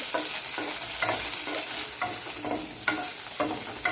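Halved green chillies fry in hot oil, a close continuous sizzle broken by repeated stirring scrapes of a spoon against the pan in an uneven rhythm, with no voices.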